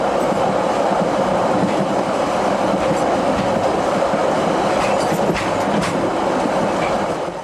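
Passenger train climbing through mountain valleys toward the summit of the line at Arthur's Pass, a steady loud rumble of wheels and carriages with faint clickety-clack and occasional squeals, continuous throughout.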